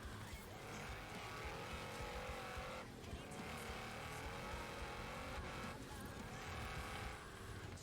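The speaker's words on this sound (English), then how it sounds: "Listen to my car. Isn't it loud?" Loud car engine in the Forza Horizon 4 racing game, a steady roaring drone with brief dips near three and six seconds, continuous throughout.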